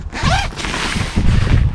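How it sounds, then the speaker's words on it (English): The zipper on a camp shower tent is pulled open in a few quick, raspy strokes, close and loud, with short pauses between the pulls. "So it does come with a rainfly and a zipper."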